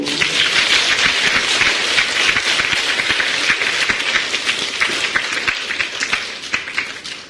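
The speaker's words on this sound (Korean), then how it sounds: "이제 박수 한번 쳐줘야지요" Dense, steady applause from a church congregation, many hands clapping continuously throughout with no voices standing out.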